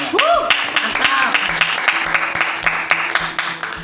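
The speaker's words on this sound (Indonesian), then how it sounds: "Tepuk tangan." An audience at a school event at SMPN 2 Purwodadi breaks into clapping, with rhythmic, uneven claps under a loud voice on a microphone and a whistling tone early on.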